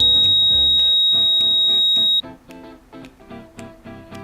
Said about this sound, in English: the loudmouth will sound an audible alarm